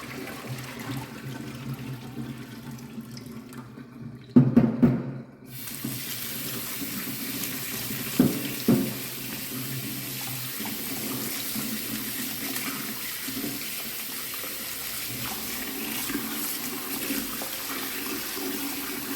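Water runs steadily from a tap, with a few clattering knocks and splashes as oily dried fish is rinsed underneath; the flow continues throughout.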